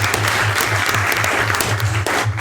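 Loud, dense applause from an audience at a debate, continuous clapping filling the room throughout with a low steady hum beneath it.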